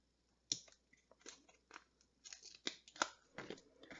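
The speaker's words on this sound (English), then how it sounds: "Now this one I'm going to have to cut a little bit. Get my scissors." Scissors snip through paper craft pieces from a paper pumpkin kit in a run of quick, crisp cuts close by in a quiet room, some isolated and some in rapid bursts.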